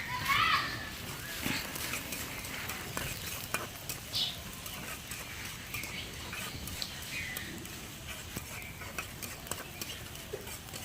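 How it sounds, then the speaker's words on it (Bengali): Green chilies and chopped garlic fry in a small wok with a light, continuous sizzle and occasional stirring scrapes, while a person talks over the cooking. "এখন হচ্ছে আমি কাঁচামরিচ ফালিয়ে দিয়ে দিলাম রসুন কুচি একসঙ্গে"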